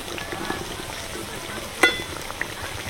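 Mini mughlai parathas deep-fry three at a time in plenty of oil, giving a continuous soft sizzle and bubbling with one sharper crackle midway.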